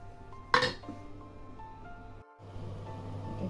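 A lid clanks down onto a metal cooking pot holding softening aubergine and cucumber sauce, one sharp close clink followed by a faint rattle, then quiet hum.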